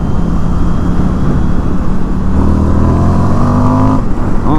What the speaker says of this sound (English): it sounds good too. That's with stock exhaust.